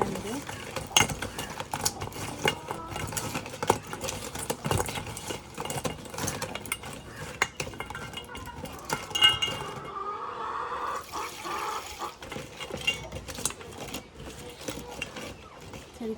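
Crabs being washed with turmeric powder in a bowl give off close clinks, knocks and scraping clatter, with bursts of sloshing water and handling noise that is louder in the second half.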